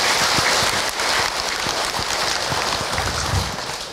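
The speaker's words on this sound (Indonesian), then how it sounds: "Tepuk tangan buat Bunda semua." Loud applause from an audience at an Islamic sermon, many hands clapping densely and continuously before tapering slightly at the end.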